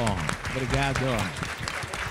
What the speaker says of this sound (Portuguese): Uma salva de palmas, Wellington.